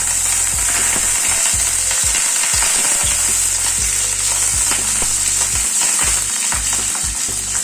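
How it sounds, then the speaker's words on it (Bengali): Eight to ten cherry tomatoes with slit green chilies fry in a pan over a low flame, giving a continuous loud sizzle with scraping and clattering stirring throughout. "গ্যাসের ফ্লেমটাকে কমিয়ে হালকা করে একটু টমেটোটাকে ভেজে নিচ্ছি।"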